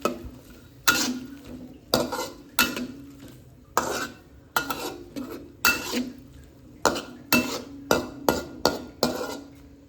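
A spoon stirring bok choy soup in a metal pot, with repeated sharp clanks and scrapes against the pot roughly every second, each followed by a brief liquid slosh, close and fairly loud over a quiet simmer.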